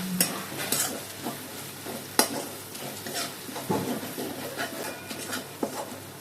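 Ginger and garlic frying in a pan while they are stirred, with a steady sizzle underneath and repeated scraping and clinking strokes from the utensil, some of them sharp and loud, all close up with no talking.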